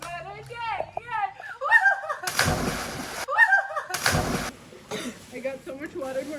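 Two loud splashes of people plunging into cold water in Bali crash in a few seconds apart. Excited voices and chatter surround them, before and between the splashes.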